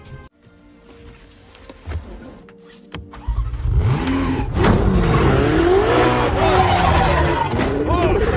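A Ferrari sports car in an action film driven hard, its engine revving up loudly and accelerating past the midpoint, with tire noise and a sustained roar; quieter sounds and voices come first.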